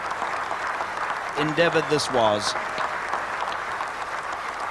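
Applause from fellow players and the team manager at a Test cricket match at St George's Park, Port Elizabeth, after a batsman's maiden century; steady, distant crowd clapping under a commentator's voice throughout.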